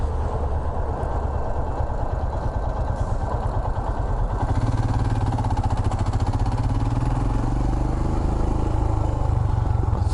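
A Royal Enfield Himalayan motorcycle engine drones steadily and loudly throughout a ride, with a mechanical clatter under it and a slight shift in tone partway through.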